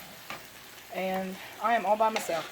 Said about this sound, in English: Melody used to call this fried spaghetti when she was little because it sizzles when you're heating it up